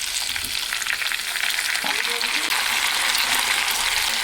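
Tomatoes frying in a pan for drumstick tomato curry give off a loud, continuous hissing sizzle with faint stirring scrapes, close and steady throughout.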